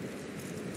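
Horse hooves clip-clopping steadily in Red Dead Redemption 2, a continuous close patter of hoofbeats with no talk over it.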